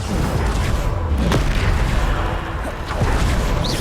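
Bombarda spell explosions in the video game Hogwarts Legacy, with heavy, rumbling booms and sharp bursts that repeat over a loud, continuous low roar.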